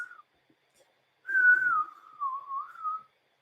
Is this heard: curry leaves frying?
no